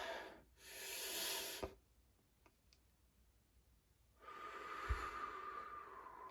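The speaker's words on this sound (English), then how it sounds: "Take a deep breath." A person takes a deep breath, a long airy inhale through the nose followed after a quiet pause by a slow, steady exhale, both soft and close.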